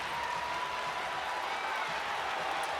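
An arena crowd at the Gateway Center Arena cheers and applauds after Angel Reese draws a foul in a WNBA game, a dense, steady roar of noise heard from a distance and held at a constant level throughout.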